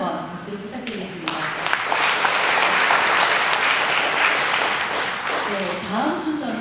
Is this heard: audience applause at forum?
yes